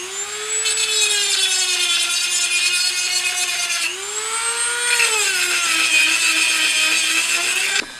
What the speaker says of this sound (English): Then I had to drill it down further.